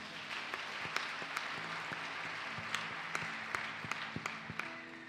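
Church congregation at a French-language worship service clapping and cheering to acclaim Jesus Christ, a steady wash of applause with scattered sharper claps throughout, moderately distant and filling the room.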